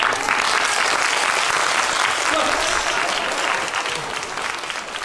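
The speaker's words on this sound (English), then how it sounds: "Please give him another round of applause." An audience at a fall festival speech contest claps after a short speech. The applause is dense and continuous, sounds close and full, and eases off slightly toward the end.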